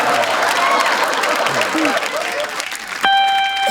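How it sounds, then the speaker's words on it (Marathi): A crowd of villagers applauds in a dense burst of clapping for about three seconds amid voices, then the clapping stops and a short ringing tone is heard. "टाळ्या वाजवा रे भाऊ"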